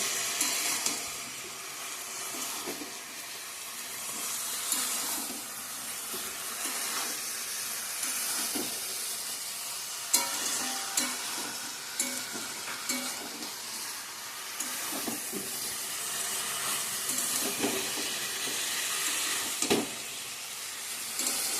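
Malabar spinach (pui shak) from a home garden sizzles and fries steadily in a pan, a continuous bright hiss with occasional pops and stirring scrapes, close and fairly loud with no talk.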